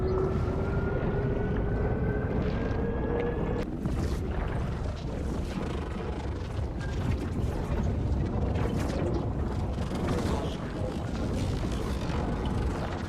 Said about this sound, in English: We're gonna check out the new wormhole sound effect improvements.